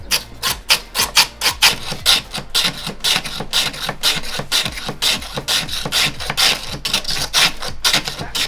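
Ice scraping against a blade, as for a Thai shaved ice dessert at a Chiang Mai street stall, makes rapid, rhythmic rasping strokes, loud and close with no talk.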